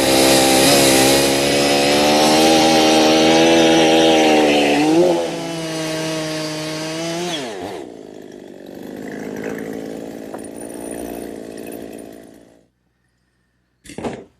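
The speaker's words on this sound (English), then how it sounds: "I'm just going to use my chainsaw to cut a couple blanks." A chainsaw roars loudly at high revs for several seconds, then bogs down and sputters as it cuts a log into bowl blanks, easing off before falling silent with a brief final burst.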